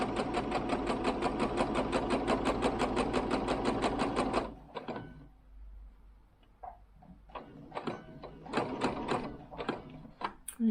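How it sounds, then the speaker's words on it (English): A sewing machine stitches a dress while its elasticated waist is taken out, running in one steady rapid burst for about four seconds, then stopping for soft handling noises and brief clicks and a few short stitch bursts. "I'm going to sew along to the point I've got down here where I've got my"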